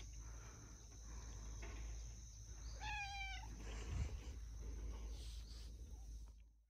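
A small kitten meows outdoors, one short rising call in the middle, faint and somewhat distant, over steady crickets and low background hum with no talking.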